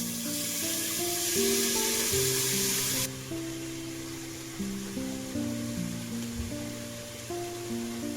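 Moth bean sprouts dropped onto fried onion for misal, a steady hiss of frying under continuous background music, louder at first and then settling.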